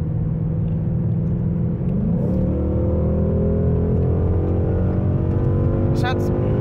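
A 2017 Ford Mustang GT V8 with 421 PS rumbles and climbs steadily in pitch as it accelerates hard from 80 to 160 km/h, heard from inside the cabin with people talking over the engine.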